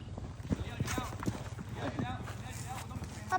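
Horse hooves clip-clop at a steady walking pace during a ride, fairly close, with people talking and calling out over the hoofbeats.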